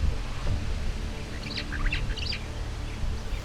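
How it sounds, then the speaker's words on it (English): Birds chirp and call in Queen Elizabeth National Park, Uganda, a few short bright whistled phrases rising out of a steady low outdoor rumble, moderately distant and not constant. "Queen Elizabeth National Park is also home to a plethora of birds"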